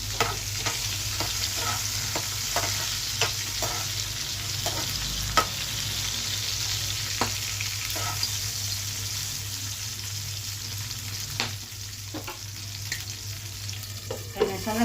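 Two spoons of cumin seeds fry in hot oil while being stirred, making a continuous close sizzle broken by repeated scraping strokes of the spoon against the pan.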